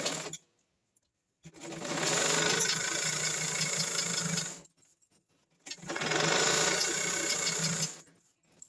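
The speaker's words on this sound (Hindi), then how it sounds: "अब यहाँ से आपको सिलाई लगाना शुरू करना है।" A sewing machine stitches fabric along the presser foot in two long steady runs of about three seconds each, with short silent pauses between them. The motor whirr is close and fairly loud, and nobody talks.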